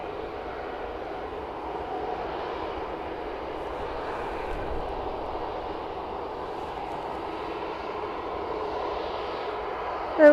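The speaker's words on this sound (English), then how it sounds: "Ryanair will be heading off in a moment, right now in fact, to Faro" A Ryanair airliner departing Manchester Airport, heard as a steady, moderately distant jet engine roar that holds fairly even throughout with no talk.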